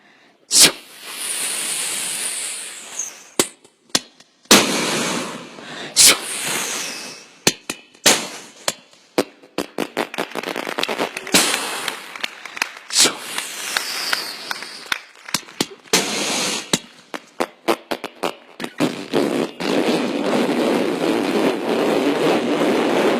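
A string of sharp firecracker-like bangs and crackles, some with rising whistles, bursting irregularly and rapidly in a synthetic fireworks display.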